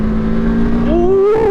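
A Voge 525 DSX motorcycle in sports mode revs up close and loud, its engine note climbing steadily in pitch as the throttle opens, with no talk over it.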